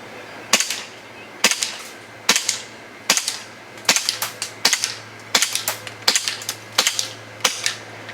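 An EliteForce 1911 airsoft CO2 pistol fires ten sharp, loud cracks at a steady pace, each snap followed by a brief metallic clack, close and alone.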